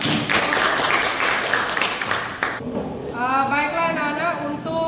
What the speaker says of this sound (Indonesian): kasih aplaus, Mbak